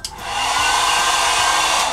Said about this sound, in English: give me a hairdryer